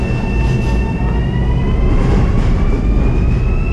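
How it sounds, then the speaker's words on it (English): Steady rumble of a commuter train heading back to Penn Station, with continuous wheel-on-rail noise, faint squealing tones and loud, even interior roar throughout, no talking. "On the train. Going back to Penn Station."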